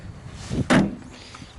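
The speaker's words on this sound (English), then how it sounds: "The door shuts wonderfully as well." A 1957 Morris Minor 1000 car door swings shut with a single solid, close thud, preceded by a short rustle of the door moving, in an otherwise quiet setting.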